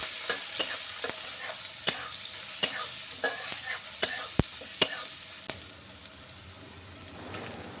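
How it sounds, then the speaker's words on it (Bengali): Onions, bay leaf, dried red chilli and whole garam masala fry in hot oil in a kadai, a close, steady sizzle punctuated by sharp spoon scrapes and clacks every second or so, then settling into a softer hiss. "আমি এখানে কড়াইতে তেল গরম করে তেজপাতা, শুকনো লঙ্কা, গোটা গরম মশলা আর পেঁয়াজ দিয়ে লাল লাল করে ভেজে নিচ্ছি।"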